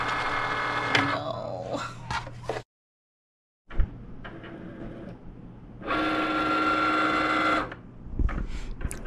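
A sticker cutting machine working through a sticker sheet, giving off whirring, buzzing motor runs with a short silent gap and a sustained louder stretch near the end, close and steady, with no talking.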